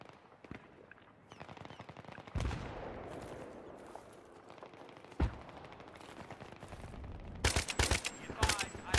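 Gunfire in Battlefield 3 on PS3: repeated sharp shots and bursts of automatic fire, some near and loud, others more distant, crackling in irregular clusters throughout.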